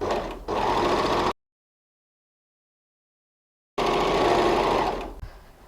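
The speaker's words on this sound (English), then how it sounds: "At the same time, I'm also sewing the bottom of my facing just with an overlocking stitch." An overlocking sewing machine stitches jersey fabric for a cowl neck top in two loud, steady, close bursts of fast whirring, separated by a stretch of complete silence, with no talking.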